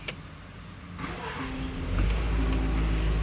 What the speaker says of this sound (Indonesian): tekan start stop engine button di tengah dashboard ini untuk nyalakan